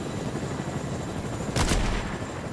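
A gunshot in Fortnite, one sharp close crack with a short double burst standing out over steady low game background noise.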